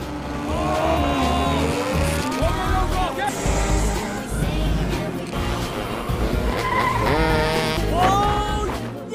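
Cars racing on a track in a film, with tire skids and squeals over a dense, loud mix of engine noise and score, sustained throughout with no clear pauses.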